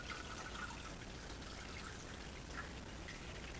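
Water trickles steadily into an aquarium planted with dwarf hair grass through a 3D printed filling aid, a continuous soft pouring splash throughout with no voices.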